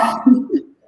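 A dog gives a short, close bark that trails into a whimpering yip, loud and brief.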